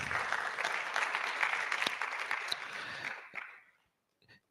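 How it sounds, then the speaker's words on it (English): Audience applause at a public lecture, a sustained dense clapping from a large crowd that tapers off and stops, followed by a brief faint sound. "let's give them a round of applause"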